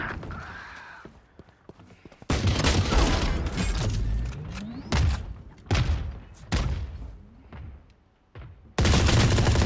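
Gunfire in the Valorant video game: loud bursts of shots and sharp impacts come in several separate volleys with short pauses between them, heard near and up front.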